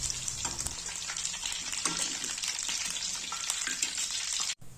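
Eggplant fries in hot oil with a constant crackling sizzle, close and steady, with occasional stirring taps and a brief sharp break near the end, no voices.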